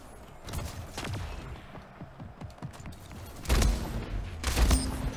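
Gunfire in the sci-fi arena shooter Splitgate: several rapid bursts of shots with a heavier double blast near the end, loud over a steady background of game sound.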